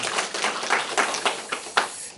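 A small audience at a talk in a Korean Won Buddhist temple gives a short round of applause: scattered, uneven claps of moderate loudness that rise and fade over about two seconds.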